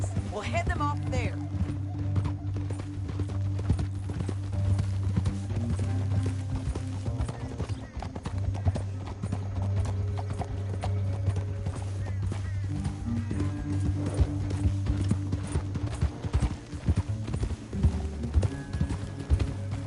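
Horse hooves clip-clop at a gallop in the Red Dead Redemption video game, a steady rhythm that runs the whole time under voices and a low, sustained musical drone.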